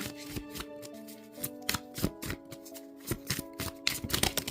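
Tarot cards are shuffled and handled by hand at close range, with a run of soft riffling flicks and light slaps that grow busier toward the end, heard alone without speech.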